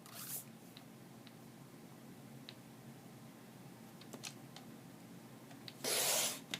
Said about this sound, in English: So I'm going to cut this 12 by 12 into 3 strips that are each going to measure 3 3/4 inches